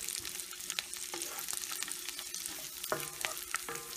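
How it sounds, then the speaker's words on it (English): Raisins and almonds being sautéed for beetroot halwa give a continuous low sizzle and frying hiss, with frequent scraping and clinking from a stirring spoon against the pan, close and fairly quiet. "Sauté it well until light golden brown color. Now to this add raisins."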